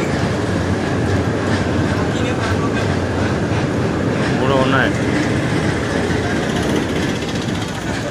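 A train crosses the bridge over the Godavari river at Rajahmundry, a loud continuous rumble and rhythmic wheel clatter, with a brief squeal in the middle.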